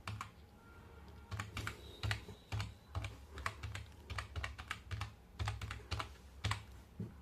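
Java code is typed on a computer keyboard in a steady run of soft, quiet key clicks with brief pauses between short bursts, close but faint, with no talking.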